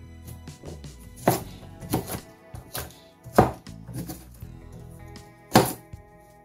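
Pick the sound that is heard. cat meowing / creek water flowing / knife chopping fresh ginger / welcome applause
knife chopping fresh ginger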